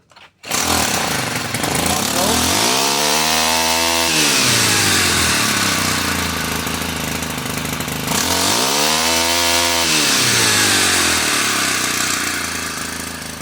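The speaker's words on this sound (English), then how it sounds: "We're going to go ahead and give it full throttle, give it a choke." A Stihl FC90 edger engine fitted with an aftermarket carburetor runs loud and close, revving up to full throttle twice in sweeping rises and falls over a steady harsh two-stroke drone.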